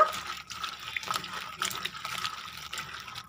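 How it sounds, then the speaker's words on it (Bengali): Water splashes and trickles into a bowl as dried jujube fruit is put to soak, a close, light, uneven pouring sound with no voice over it. "এই কুলটা আমি এর মধ্যে ভিজিয়ে দেবো।"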